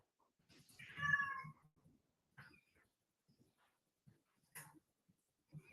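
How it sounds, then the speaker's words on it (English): A cat shut on the other side of a door meows faintly and muffled, one longer cry followed by a few shorter, quieter calls with pauses between them. "The cat is very unhappy to be on the other side of the door."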